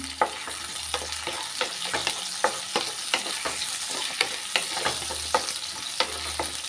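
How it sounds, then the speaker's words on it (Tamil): Onions frying in a pan with green chillies, ginger and garlic for a double beans gravy, a soft continuous sizzle broken by regular scraping strokes of a spoon stirring close by. "வெங்காயம் வந்து நல்லா வதங்கி வரட்டும்"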